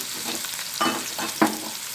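Onion paste fries in a pan for a chicken-ball gravy, giving a close sizzle with a few short bursts of stirring scrapes.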